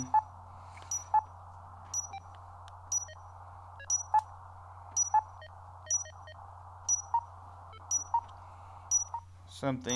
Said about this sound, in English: It also has a CW carrier signal